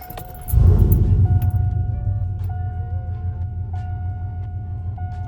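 A 2014-2018 GMC Sierra or Silverado truck engine catches with a loud low rumble about half a second in, then settles into a steady close idle, with faint jingling and a few thin chimes over it.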